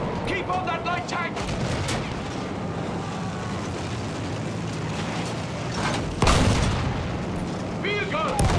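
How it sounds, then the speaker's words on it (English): Field gun artillery fire in Battlefield 1, heavy booms amid continuous battle noise and mechanical clatter, with one especially loud blast late on and shouting voices heard over the combat. "Field gun! Watch out!"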